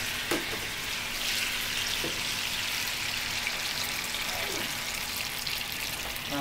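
Freshly squeezed orange juice poured into a hot frying pan with tuna and piquillo peppers, giving a steady loud sizzle and hiss with a few soft utensil clinks and faint stirring.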